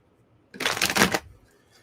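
A brief riffle of tarot cards being shuffled, a single quick burst of crisp flutter, close up and alone.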